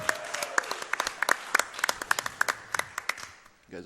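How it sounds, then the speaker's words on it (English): Sparse, distinct hand claps from a live-stream audience at a speedrunning charity marathon, individual claps spaced through the stretch rather than a full ovation, trailing off before a voice comes in at the end. "Come on, clap those hands."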